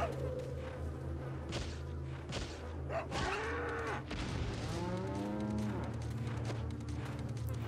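Cows moo in Resident Evil 4 (2005), several long, drawn-out lowing calls overlapping one another above a low hum, with a couple of soft thumps between them.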